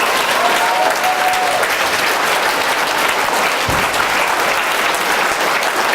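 Sustained, loud applause from a seminar audience fills the whole stretch, dense and steady, with a faint voice briefly audible early on.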